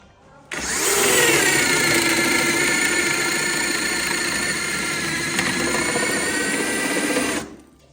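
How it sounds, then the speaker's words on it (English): A power drill bores down into wood in a log garage, starting abruptly and holding a loud, steady high whine for about seven seconds with a slight dip in pitch under load before cutting off. "now we're gonna take a drill and drill down into there"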